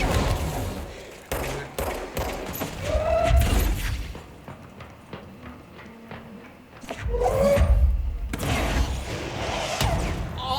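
Gunfire and rocket launcher blasts from the video game Control come in loud bursts of rapid shots and booming explosions, separated by quieter gaps.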